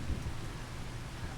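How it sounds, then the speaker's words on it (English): Steady rain falls on an estancia in Argentina, forming a soft, even wash of noise with faint low rumbling underneath and no voices. "It's raining."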